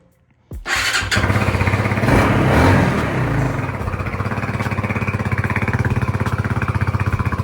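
Motorcycle engine restarting after stalling: a click, then the engine catches and revs up, settling into a steady, loud, close idle with a regular pulsing beat.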